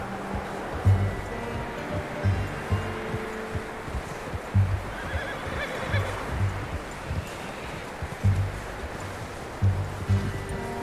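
A horse whinnies several times in short bursts in the video game Red Dead Redemption 2, over a busy background of low rumbling and rustling, with faint voices in the mix.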